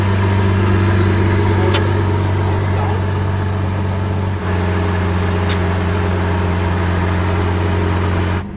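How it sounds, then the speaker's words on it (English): A Lamborghini Sian FKP 37 supercar engine runs at a steady, loud idle nearby, a deep constant hum with a slight dip in tone midway and a couple of faint ticks, no voices. "Doesn't it sound so different, you guys? It's, I love it. I love the sound of this car."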